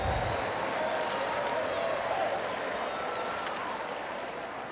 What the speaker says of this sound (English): Clap your hands and give God praise.